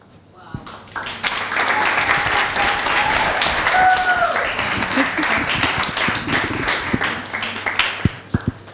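An audience at a talk applauding, a dense wash of clapping that swells quickly and holds steady for several seconds before thinning to a few scattered claps at the end.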